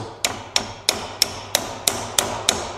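Eight light, evenly spaced hammer taps setting a part in place during an AM10 to 1410 conversion, crisp close metallic knocks in a steady rhythm with a brief ring after each, no talk.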